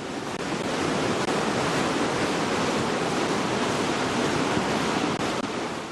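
Floodwater from the overflowing Deliçay and Tümçay streams in Dörtyol, Hatay, rushes with a constant, dense roar that stays loud and unbroken throughout.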